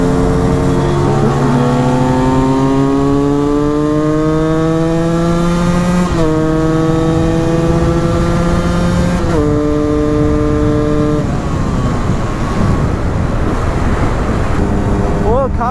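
A motorcycle engine runs up close and loud, its whine climbing steadily in pitch and then dropping sharply at each gear change, with wind noise underneath.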